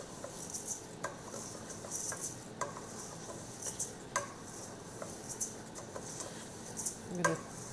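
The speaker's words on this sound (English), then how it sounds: "I'm going to toss that so that it gets coated with the olive oil" Arborio rice tossed in olive oil in a pan, a series of light, close patters and scrapes at irregular intervals over a faint background hiss, with no voices.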